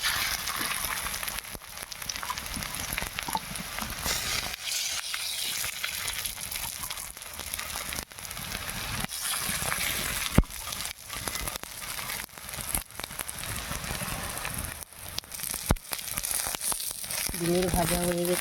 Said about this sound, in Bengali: মাছের ডিমের বড়াটা বসাবো। তেল দিয়ে দিয়েছি।